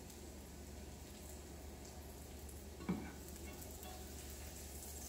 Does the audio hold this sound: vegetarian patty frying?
yes